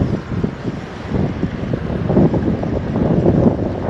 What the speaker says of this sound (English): The wind is switching up, coming at her face now.